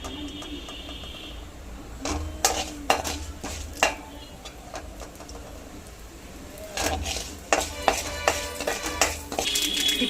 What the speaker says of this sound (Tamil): இப்போ வந்து கடுகு நம்மளுக்கு நல்லா வெடிச்சு வந்துச்சு.